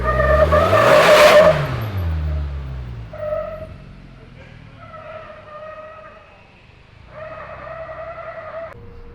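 A Segway Super Villain engine roars close by, sweeping up as it passes, then settles into several revving bursts with rising tones, and a voice briefly speaks.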